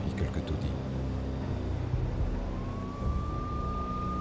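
A police siren wails in the Max Payne video game, a steady rising tone that emerges partway through over a dense, murky background of engine and street noise, under French narration.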